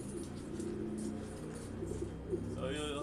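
A racing pigeon arrives at the loft after a long race and coos softly several times, faint against a low background hum, with some distant chirps.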